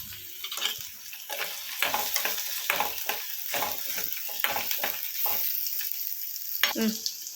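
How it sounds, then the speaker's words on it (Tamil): Chutney ingredients, including tamarind, roasted gram and salt, sautéing in a pan, with a steady sizzle broken by repeated stirring scrapes close by; no talking. "எல்லாமே சேர்த்து கொஞ்சமாக வதக்கிக்கோங்க."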